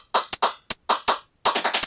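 Electronic percussion group from a Machinedrum with everything but the kick, played together: clipped, saturated hits in short bursts, snare and clap-like strikes with a dense run near the end, no voices.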